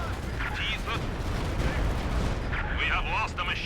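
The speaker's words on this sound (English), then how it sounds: "Stuka is gonna put some damage here on my machine gunner" Stuka dive bomber strikes a machine gun crew in Company of Heroes 2, a continuous rumbling barrage of explosions and gunfire with whining tones that rise and fall, dense and sustained with a voice talking over it.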